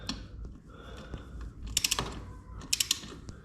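Motorcycle exhaust bolts on a 2020 Kawasaki Ninja 650 Akrapovic exhaust are tightened with a 12 mm socket ratchet. Two short bursts of rapid ratchet clicking sit over quiet background handling noise.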